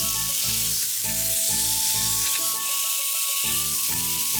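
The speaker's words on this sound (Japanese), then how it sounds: "オリーブオイルで片面1分ずつ焼きます" Loud, constant sizzling of meat searing in olive oil, one minute per side, with background music playing underneath.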